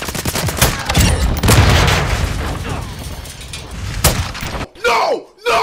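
Gunfire and explosions rattle through a Call of Duty Modern Warfare 2 multiplayer match with the SPR 208 rifle, as dense bursts and booms that break off near the end into shouted voices.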